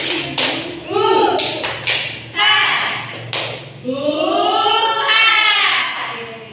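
Classroom of students performing the rhythmic 'tepuk semangat' clap chant: sharp bursts of group claps alternate with children's voices chanting in unison, close and lively.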